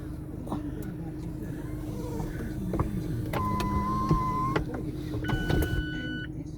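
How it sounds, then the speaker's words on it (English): Electric retractable hard roof of a 2.0 Mazda MX-5 RF Sport Nav automatic, heard from inside the car over an idling engine: whirring motors with mechanical clunks and clicks as the panels move, at moderate volume. "So down, and here goes the hood."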